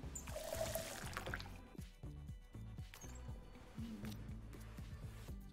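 In the video game Twelve Minutes, water is poured into a glass as a trickling, gurgling stream with rising pitch, quiet and close, lasting several seconds with small drips and clinks.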